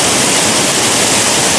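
Waterfall fed by water from the Telomoyo mountains roars as a loud, continuous broadband rush filling the whole clip, with no voices.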